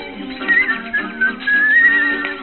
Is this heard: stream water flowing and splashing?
no